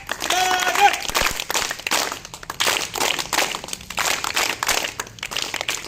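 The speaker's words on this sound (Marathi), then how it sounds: "त्यानंतर टाळ्या वाजून स्वागत करूया" Applause at a school event welcoming a madam, a crowd of hands clapping as a dense crackling patter through the whole stretch, with some voices over it early on.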